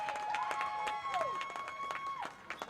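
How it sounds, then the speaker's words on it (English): Scattered clapping from a home crowd at a girls' high school soccer sectional final, sounding distant and fairly faint, with sharp individual claps over a thin, steady background tone. "Home crowd is appreciating that defensive effort"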